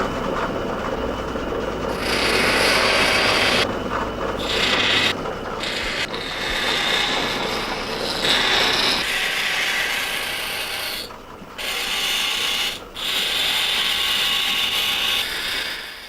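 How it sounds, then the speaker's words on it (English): A fitter drills into a horn knife handle from both sides in an old basement knife-making workshop, giving a loud, steady grinding and rasping mechanical sound in bursts with brief pauses, no voices. "To insert the blade tang, the fitter drills the horn handle from both sides."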